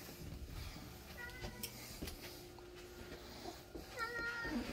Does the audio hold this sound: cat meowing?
yes